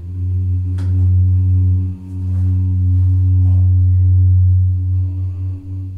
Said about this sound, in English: In this case, we are humming the note, and you can clearly tell when we get it just right.